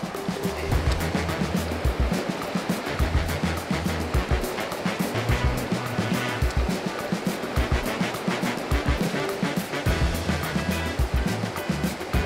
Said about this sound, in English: I can already tell this isn't getting the thump that I want in this fast water.